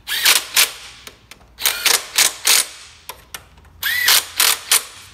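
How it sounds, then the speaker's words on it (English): An electric impact wrench works on the throttle body of a Honda S2000, firing in short hammering bursts of a second or less with gaps between them, some bursts rising in pitch as the motor spins up, loud and close. "My electric impact."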